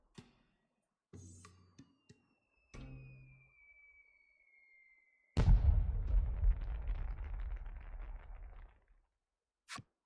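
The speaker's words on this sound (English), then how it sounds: "I should like to set off some fireworks then, in honor of the dead." Fireworks in the video game Voice of Cards: a rising whistle followed by a loud burst and a long crackling, fizzing decay, with a few sharp pops before and a final snap.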